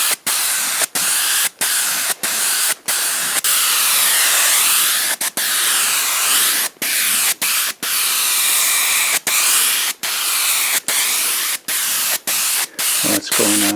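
Leather dye sprayed in a heavy coat onto a hole repair in a Mercedes-Benz W126 S-Class leather seat, a loud continuous close hiss broken by many brief pauses.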